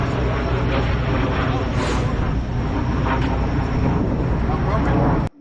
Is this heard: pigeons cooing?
no